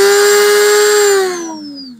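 A Dremel rotary tool running at a fast speed setting in a drill workstation, a loud, close, high-pitched whine holding steady and then winding down as the motor slows.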